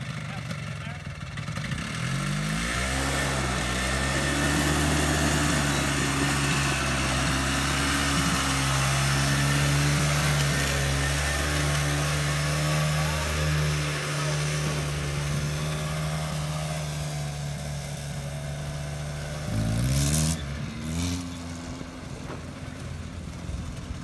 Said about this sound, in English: I'll push you, and then when I yell at you, you will let the clutch down, and the engine will engage